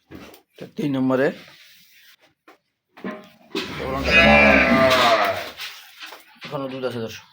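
A dairy cow at a cattle sale gives a loud, sustained moo close by, with brief voice-like calls before and after it.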